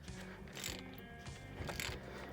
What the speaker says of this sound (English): throw your socket in there, put lots of forward pressure, and then you're gonna break it free